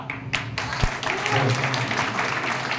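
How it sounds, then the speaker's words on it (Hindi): An audience claps at a public gathering about politicians and voting, a dense burst of applause that stays steady for a few seconds with voices mixed underneath. "तालियां।"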